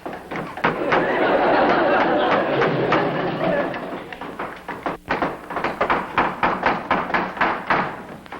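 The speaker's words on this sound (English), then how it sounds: "There's a man hammering I've never even seen before." Sharp, irregular knocks like hammer blows ring out over a busy background of chatter and movement, growing more distinct toward the end.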